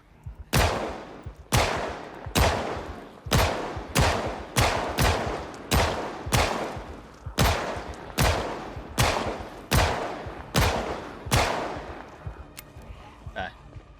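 Pistol gunfire in Project Zomboid as a player shoots zombies: about sixteen sharp, loud shots in a steady, fairly quick rhythm, each with a short decaying tail, followed by a quieter stretch near the end.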